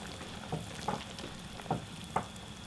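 Kimchi is stir-fried in a pot, a soft, low sizzle broken by four or five brief scraping, stirring knocks at irregular intervals, quiet and close.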